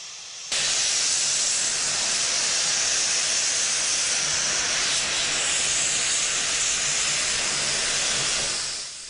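A Jubilee class steam locomotive, 45560 Prince Edward Island, hisses in the Crewe North shed yard in January 1963: a loud, steady rush of steam that starts abruptly and holds for the rest of the clip.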